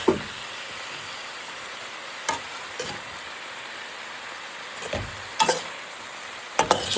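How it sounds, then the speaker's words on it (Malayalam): Spinach cooking in a pan for cheera thoran, salted and stirred: a soft continuous sizzle with a few sharp scrapes and knocks of the spoon against the pan at scattered moments, no voices. "ഉപ്പൊക്കെ ഇട്ട് ഒന്ന് ഇളക്കിയിട്ട് ഒന്നും കൂടെ നമുക്ക് അടച്ചേക്കാം"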